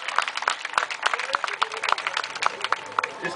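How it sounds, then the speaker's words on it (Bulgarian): Scattered applause with distinct, rhythmic claps from a smallish crowd, moderately loud, with some voices mixed in. "Очаквам още бурни аплодисменти"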